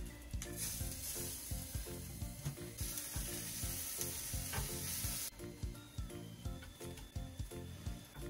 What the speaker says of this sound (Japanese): 最後塩焼き焼いていきます